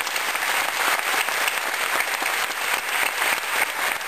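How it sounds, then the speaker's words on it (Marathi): An audience at a Marathi talk bursts into hearty, sustained applause, a dense wash of many hands clapping evenly throughout, close and full, with no speech over it. "त्या सगळ्यांसाठी एकदा मनापासून कडकडून टाळ्या वाजवा"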